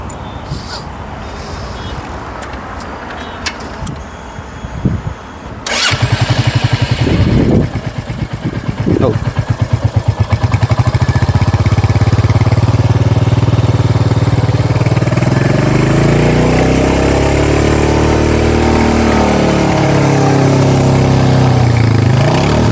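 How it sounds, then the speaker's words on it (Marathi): A Royal Enfield Hunter 350 motorcycle with about 15,000 km on it starts after some talking and background noise, then settles into a loud, steady thumping idle. Its exhaust note rises into a smooth rev and drops back toward idle. "आपल्याला एकदा चालू करून ना गाडीचा फायरिंग ऐकवा की जरा. एक्झॉस्ट कसा आहे?"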